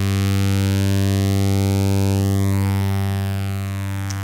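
A slow LFO-driven phaser sweep built in Ableton Live on a steady, buzzy synth tone, with a notch rising gradually through the sound and starting to fall back near the end, loud and continuous.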